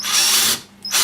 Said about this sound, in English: I usually start from a small power until the screw bites into wood.